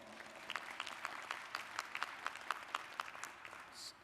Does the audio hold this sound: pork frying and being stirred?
no